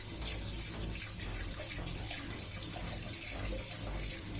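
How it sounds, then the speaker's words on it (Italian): Hot water runs from a kitchen tap in a steady, unbroken rush, close and fairly quiet, with no other sounds. "vi servirà l'acqua calda."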